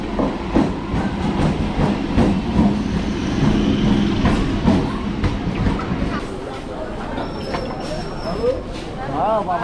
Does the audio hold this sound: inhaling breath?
no